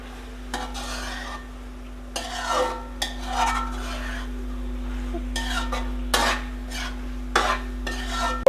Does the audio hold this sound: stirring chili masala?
yes